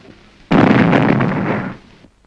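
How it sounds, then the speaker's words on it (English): A bomb thrown at a prayer gathering explodes in a single loud, close blast, with a sharp onset and a roar that holds for about a second and a half before cutting off. "The explosion was from a bomb thrown by a Hindu refugee to kill Gandhi."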